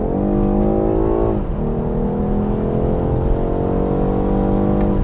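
A 2021 BMW 4 Series in sport mode pulls hard, its engine note rising steadily, dipping briefly at a gear change, then climbing again, loud and close from inside the car.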